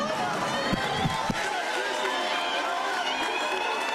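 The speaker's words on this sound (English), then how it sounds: "The crowd is fired up." A crowd cheers and roars at an LSU college football commitment announcement, a steady wash of excited voices with a few sharp shouts early on, heard from within the room.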